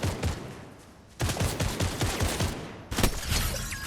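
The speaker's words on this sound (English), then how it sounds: "Take one out there with a headshot" Rapid bursts of automatic gunfire in a Fortnite Zero Build match against bots, loud and dense, with a short lull before the shooting resumes in quick fusillades.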